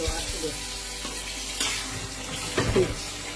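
A little water goes into broiler chicken bhuna sticking in a hot kadai, setting off a soft sizzle and bubbling with a few stirring clinks, fairly quiet throughout.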